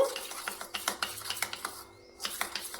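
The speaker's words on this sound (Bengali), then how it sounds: "এবার আমি একটা পাতলা ব্যাটার তৈরি করে নেব" Flour and water whisked into a thin batter for a Kolkata street-style vegetable chop: quick, rhythmic clicking and scraping of a whisk against a bowl, close and fairly light, pausing briefly before resuming.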